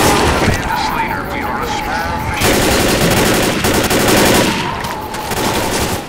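Dense, continuous automatic gunfire and blasts from the zombie shooter Left 4 Dead roar almost without a break, loud and layered, with players' voices mixed in.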